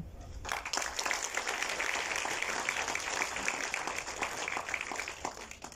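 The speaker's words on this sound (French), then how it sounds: "nous pouvons déjà les applaudir" An audience at a documentary film premiere in Mauritius claps together, a sustained, fairly loud wash of applause that starts abruptly and continues evenly to the end.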